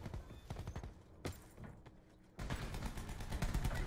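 Rapid gunfire from a first-person shooter video game, a dense burst of shots in quick succession, then a brief lull and another sustained stretch of firing, loud and close.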